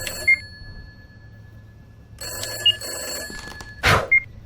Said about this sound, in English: I think you have to answer the phone.